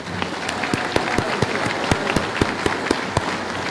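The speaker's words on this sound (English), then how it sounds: "Let's give these future EHS graduates a round of applause as well" A graduation ceremony audience applauds steadily, a dense wash of clapping with some sharper individual claps standing out, moderately near and sustained throughout without talk.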